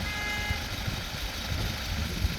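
Diesel engine of a 2017 Peugeot Boxer van with a 2.2-litre, 160-horsepower motor running steadily at idle, a constant low rumble with no talking.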